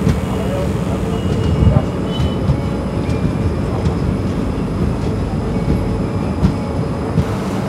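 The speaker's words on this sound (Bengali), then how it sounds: "অবশেষে ট্রেন এসে পৌঁছালো বিষ্ণুপুর" A train pulls into Bishnupur station, its steady loud rumble and wheel rattle heard from on board, with occasional clicks over the rails and voices talking underneath.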